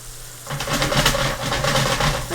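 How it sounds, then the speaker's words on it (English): Shrimp sautéing with garlic in a pan, a steady close sizzle that starts abruptly and keeps hissing with small crackling pulses. "Let them saute with the garlic."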